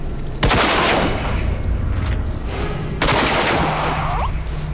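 Two loud sniper rifle shots in the shooter game RAGE, each a sudden booming crack followed by a long rumbling echo that fills the space between them.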